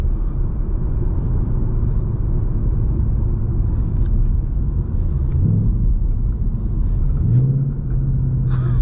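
A 2026 Ford Mustang GT with a manual gearbox cruises at low revs in fifth gear, a deep, steady engine rumble with road noise and a brief lift in engine tone near the end.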